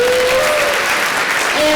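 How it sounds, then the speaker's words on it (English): An audience at a celebration and reunion event bursts into dense, sustained applause, loud and continuous for the whole short stretch with no pauses. "Can I get a round of applause?"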